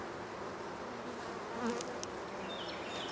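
Honey bees buzz around an opened hive during a spring inspection, a close, continuous droning hum with a few louder passes near the microphone and no speech.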